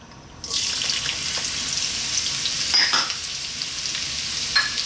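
Fresh ginger dropped into very hot oil already infusing with red chilies sets off a bright, steady sizzle that surges and then holds, with a few stirring scrapes partway through and no talking.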